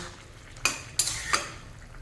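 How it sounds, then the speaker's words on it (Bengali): Mustard, poppy seed, cashew and green chili paste stirred in a pan over high flame for shukto: three sharp spoon scrapes and clinks against the pan at even intervals, close and clear, with no talking. "ভালো করে একটু নাড়িয়ে মিশিয়ে দিতে হবে"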